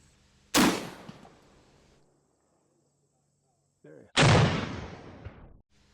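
A Danish Model 1848 tap rifle fired from a bench at a 100-yard target: two loud, close gunshots about three and a half seconds apart, each a sharp blast with a ringing tail.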